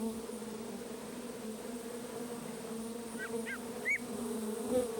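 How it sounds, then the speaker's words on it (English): Honeybees buzz in the North Woods as they gather nectar ahead of winter, a steady low drone over outdoor ambience with a few brief chirps from a bird in the background. "Honeybees are preparing for the frigid season ahead, building up their supplies of sweet nectar."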